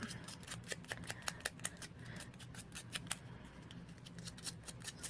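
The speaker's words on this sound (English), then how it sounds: "I just use my scissors to kind of go around the edges to kind of rough it up a bit." Scissors snip repeatedly in quick, uneven clicks, close and fairly quiet, like small cuts trimming around paper.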